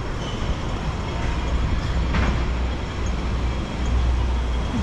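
A Hong Kong tram running along North Street in Kennedy Town, a low rumbling rail roll under steady street traffic and bus noise, with a brief brighter screech partway through.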